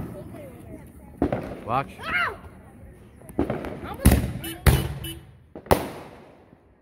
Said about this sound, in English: letting off two mortars